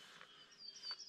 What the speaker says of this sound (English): the birds making their noises